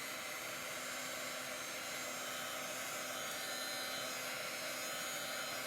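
A hair dryer blows steadily on chalk paint, a constant broadband whoosh with a faint motor hum, close and unbroken throughout.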